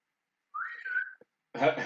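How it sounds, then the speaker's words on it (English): A person gives a short whistled call to a dog, a sliding two-part note, followed by a brief burst of a voice. "Try to whistle."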